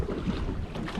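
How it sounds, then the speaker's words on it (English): Wind blows steadily over the open sea from a boat on a spearfishing trip, a low rushing buffeting against the microphone with the faint wash of water beneath. "Wind picked up a little bit."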